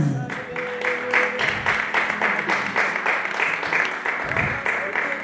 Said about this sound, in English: Come on, somebody with a clapping ovation.